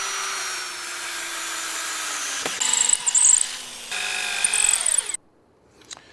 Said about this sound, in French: je les perce en regard de la jambe de force et je les visse